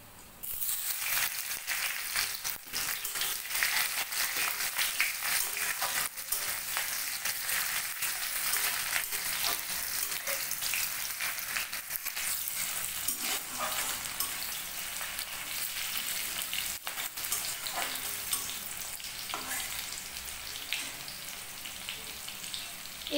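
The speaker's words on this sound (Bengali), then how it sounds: "তেজপাতাটা হয়ে গেছে এখন আমি এতে দেব পেঁয়াজ কুচি" Chopped onions hit hot oil with a bay leaf in a pan for mocha aloo posto, a loud, steady close sizzle with occasional crackles and spoon scrapes throughout.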